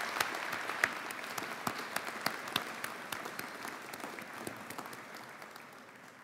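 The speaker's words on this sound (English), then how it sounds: "Let's give your families and friends a round of applause for their steadfast support." Audience at an awards convocation applauds families and friends, a steady wash of clapping with distinct sharp claps standing out, sustained throughout and slowly fading toward the end.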